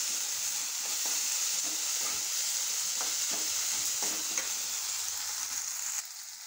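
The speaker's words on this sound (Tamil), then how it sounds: "இந்த வெங்காயம் வதங்கி வருதுல்ல" Onions for a brinjal and tomato kulambu sizzle steadily in a hot pan, a continuous bright crackle with a few soft stirring clicks.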